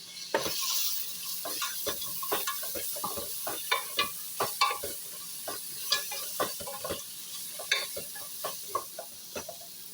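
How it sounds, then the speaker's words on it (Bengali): Chicken with cumin and coriander powder, salt and a pinch of turmeric fries in a pan, a steady sizzle broken by frequent close scraping and clinking strokes of a spoon, with no talk. "এখন আমি এগুলো একটু ভালো করে কষা নেব"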